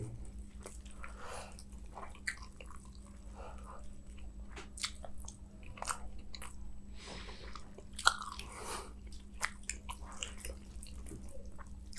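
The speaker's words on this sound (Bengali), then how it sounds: "এটাই আগে খাই।" Quiet chewing of food while eating, with soft crunches, bites and wet mouth sounds repeating irregularly over a steady low hum, close and faint.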